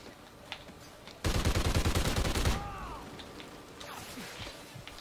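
Gunfire in the Call of Duty: Ghosts video game: a loud rapid burst of automatic fire lasting over a second amid faint background game noise and small pops.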